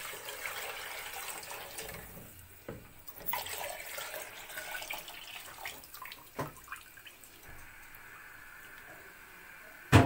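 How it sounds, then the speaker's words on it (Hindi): Milk being poured into rice in a pot for kheer, a soft continuous liquid wash with faint splashes and small clinks, ending in a brief sharp knock. "इसमें दूध डाल दिया चावलों में"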